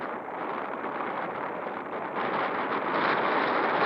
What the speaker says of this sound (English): in this gusty wind